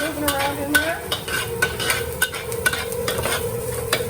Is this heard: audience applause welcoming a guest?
no